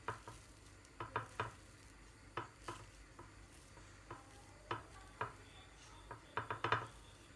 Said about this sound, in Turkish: Kadayıflarımı ayırabildiğim kadar tel tel güzelce ayırdım